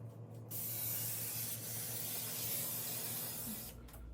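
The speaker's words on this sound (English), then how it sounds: "I'm gonna degrease my pan with the pan coating spray." A continuous hiss of an aerosol cooking spray, one long burst of about three seconds, close and fairly loud, with brief quiet before and after.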